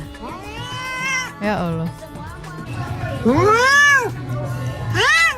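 A cat meows repeatedly in long, rising-and-falling wails, some close and loud, with a person's voice speaking briefly in between.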